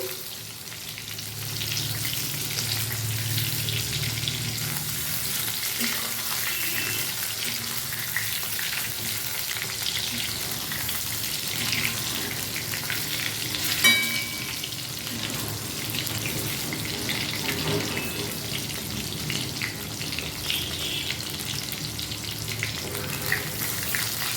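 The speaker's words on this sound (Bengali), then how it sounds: "আমি বেগুনটা ভেজে তুলে নিচ্ছি" Eggplant fries in hot oil in a home kitchen, giving a continuous, close sizzle with occasional stirring and scraping in the pan.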